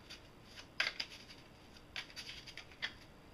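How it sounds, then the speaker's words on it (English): A deck of playing cards being shuffled by hand, heard as a few soft, crisp riffling bursts and flicks spread across a quiet moment, close and faint. "I'll really shuffle the deck"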